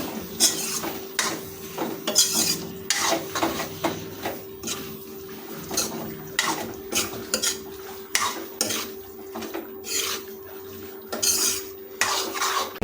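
Peas and chicken skin for ghugni get stirred in a metal pan. A spoon scrapes and clanks in uneven bursts, close and fairly loud, over a faint sizzle and a steady low hum. No voices are heard.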